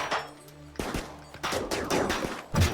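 Colonists firing guns in RimWorld, with several sharp reports scattered unevenly across a couple of seconds, some close and loud, others lighter, over a low steady hum.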